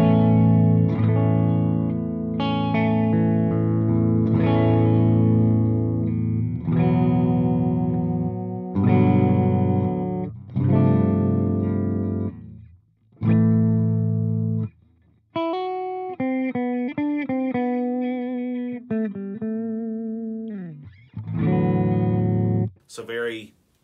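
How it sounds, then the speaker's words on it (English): Electric guitar on a clean tone through both humbuckers in the middle pickup position, tone controls fully open, playing a run of ringing chords followed by single-note melodic lines with bends, close and fairly loud with no other sounds. "start out in the middle position, which is both of the humbuckers, and I have the tones wide open, and the guitar sounds like this"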